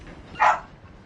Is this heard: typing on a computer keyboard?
no